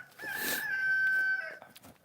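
A rooster crows once at a farm, a single loud drawn-out call rising and holding before trailing off, close by with chickens around.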